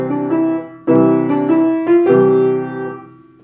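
Piano playing the simple nursery tune Row, Row, Row Your Boat, a few clear struck notes with a left-hand chord underneath, ringing and fading at the end, solo and close.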